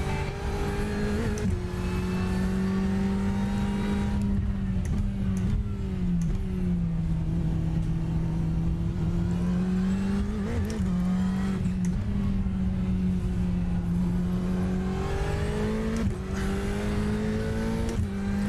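Ferrari 488 GTE race car engines at Sebring in iRacing howl continuously, with the near engine's tone rising and falling through shifts and other cars close alongside, loud and sustained with no talk.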